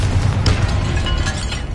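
Confringo spell explosion in Hogwarts Legacy: a loud, close burst with a deep rumbling boom and a crackling pop that fills the whole short moment.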